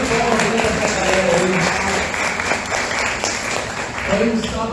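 Church congregation clapping after a Saturday baptism service, a steady dense patter filling the whole stretch, with a voice talking over it near the end.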